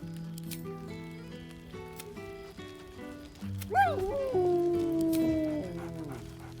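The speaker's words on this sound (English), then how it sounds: "He whines." A dog whines in the video game Baldur's Gate 3, a rising then sliding high-pitched whine over layered orchestral game music, with other sound effects beneath it.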